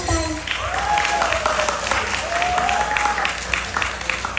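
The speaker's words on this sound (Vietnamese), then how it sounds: "Cho Gigi một tràng vỗ tay." Audience applause at a Vietnamese birthday music night celebrating Bà Tám Cam Thơ, a steady wash of clapping filling the room for several seconds, with music tones and a voice faintly mixed in.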